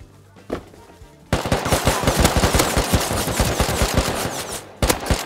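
Rapid bursts of automatic gunfire in the survival video game Rust during a counter-raid, loud and nearly continuous after a brief quiet start, with shots crackling in close succession.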